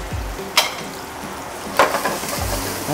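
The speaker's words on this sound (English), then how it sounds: "Just wanna do a quick saute on that." Blanched asparagus tips sautéing in a hot pan in a restaurant kitchen, a steady sizzle punctuated by two sharp scraping stirs, close and fairly loud.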